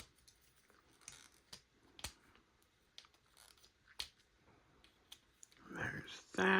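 Plastic parts of a Bombshells Lab MP-59 Masterpiece Beast Wars Rhinox figure being folded give scattered sharp near clicks. A louder rustle of handling comes near the end, and soft talk runs underneath.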